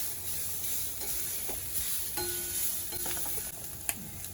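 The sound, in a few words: slow roasting in a pan on low flame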